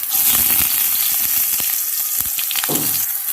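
Eggplant slices fry in white oil, giving a steady, fairly loud hiss and sizzle with scattered crackles and a few light utensil taps up close.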